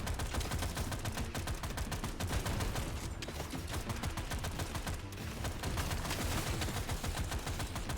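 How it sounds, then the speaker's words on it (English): A gun in Deep Rock Galactic: Survivor fires automatically in a dense, continuous barrage of loud rapid shots that runs unbroken throughout, with no talking. "the gun just keeps shooting"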